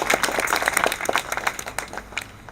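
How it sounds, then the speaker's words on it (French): A small audience claps for the participants at a ceremony in Geneva unveiling a commemorative plaque, with scattered, uneven hand claps of moderate loudness running through the brief moment. "Je propose d'applaudir tous les intervenants d'abord."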